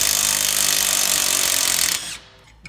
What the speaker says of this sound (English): I'm just going to use my impact to make life easier.